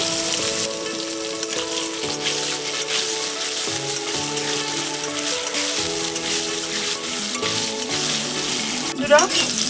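Loud continuous sizzling of potatoes frying in hot oil, close up, with faint tonal background sounds and a brief clatter near the end.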